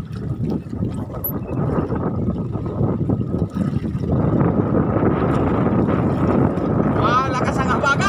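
Strong southwest monsoon wind buffets a small fishing boat at sea, roaring steadily over engine and water noise throughout, with a person briefly talking.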